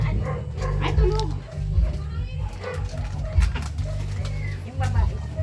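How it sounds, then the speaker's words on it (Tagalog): A dog barks in short yipping bursts amid a busy outdoor scene during New Year's Day food pack giving, mixed with birds, children playing and a steady low hum, while people talk nearby. "may aso ha"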